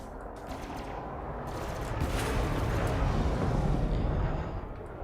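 Sustained roaring bursts of ship cannon fire in the Elite Dangerous space combat game, a dense rumbling barrage that swells and stays loud for several seconds with no talking.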